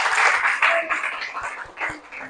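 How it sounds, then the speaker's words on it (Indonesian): A group of training participants clapping for a presenting team, moderately dense applause that swells and fades over a couple of seconds. "Oke, tepuk tangan kelompok 4."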